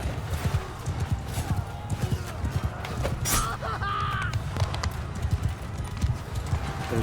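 Horse hooves gallop in a rapid, loud, steady clip-clop rhythm in a Mount & Blade II Bannerlord battle, with occasional neighs and clashing game effects over the pounding.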